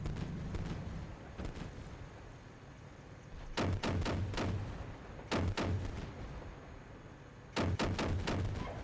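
Tank cannon fire in the Steel Beasts Pro PE simulator, several sharp, loud booming shots in clusters, each a quick burst of blasts spaced over several seconds against a low engine rumble.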